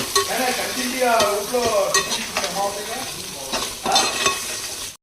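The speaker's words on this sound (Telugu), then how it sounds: "ఇది మొత్తం ఒకసారి మిక్స్ అయ్యే విధంగా బాగా కలుపుకోవాలి." Crab curry masala being stirred in a hot pan, with scraping strokes of the spoon and steady sizzling frying throughout, close and loud with no talk.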